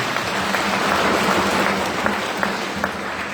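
A chapel congregation applauds in a dense, steady wash of clapping that carries on evenly throughout, with a few sharper individual claps standing out near the end.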